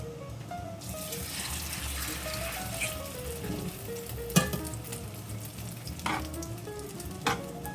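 Egg-washed chicken breast frying in a pan for chicken francese, a steady close sizzle running throughout with occasional clinks and handling noises over a low background tone.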